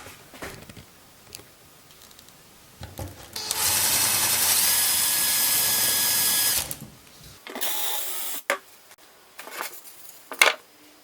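A power drill with a drill bit runs for about three seconds, scratching through the backside of tape-covered threads, with a steady loud whir between quieter clicks and handling knocks.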